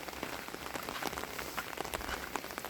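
Rain falls steadily in sunshine beside a rice paddy field, a dense even hiss of drops that carries on with no talk.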